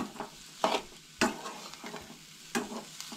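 Grated coconut stirred and dry-roasted in a pan for a Goan black-eyed bean curry, giving soft scraping strokes and faint crackle in a few separate bursts, close and quiet with no talk.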